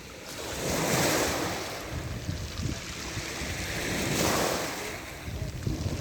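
Sea waves breaking on the shore at Izola near the lighthouse, two slow swells rising and falling over steady surf and wind noise, close and fairly loud, with no voices.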